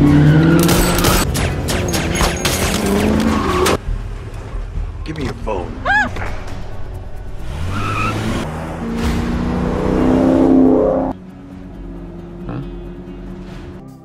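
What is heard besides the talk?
car speeding away in a film chase scene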